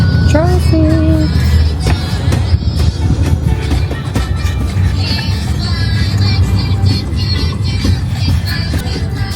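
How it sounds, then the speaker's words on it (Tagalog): Road traffic on the way to Nusa Dua, Bali: a steady, loud rumble of cars and other vehicles close by, with a brief horn-like tone near the start and a voice speaking over the noise. "Traffic!"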